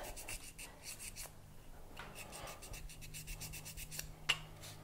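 Quiet, steady rubbing and scraping of a sanding tool against a small piece of copper clay, with brief strokes repeating and one sharp tick near the end.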